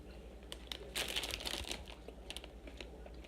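Crunchy pizza-flavored snacks from an Australian snack box are chewed close to the microphone in quiet bursts of crackling crunches, with no talking.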